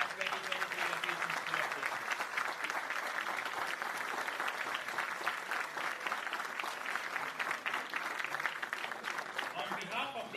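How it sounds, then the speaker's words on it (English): A large convocation audience at a business school graduation gives sustained, dense applause for the graduating classes, the clapping steady and full throughout with faint voices mixed in. "A loud round of applause for the class of 2022 and 2023 locations."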